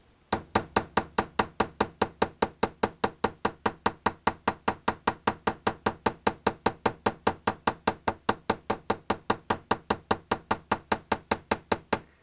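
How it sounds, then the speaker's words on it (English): A planishing hammer strikes copper in a fast, steady rhythm of about four blows a second for the whole stretch, each crisp metallic tap close and even in loudness. "Now you always want to make sure that your hammer strokes overlap here"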